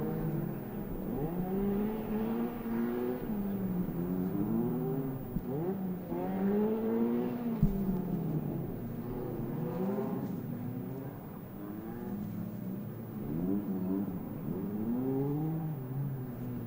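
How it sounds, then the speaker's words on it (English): A Ford Fiesta race car circuits a track with its engine rising and falling through the gears, a continuous revving drone at moderate distance warming its rear tyres before a race, with no talk. "Max Turley firing that Fiesta around there, trying to get some heat in the rear tyres"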